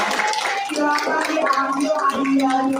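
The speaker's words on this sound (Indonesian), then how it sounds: "Kasih tepuk tangannya." Applause from a group at a school gathering, a short burst of clapping heard under a speaker's voice.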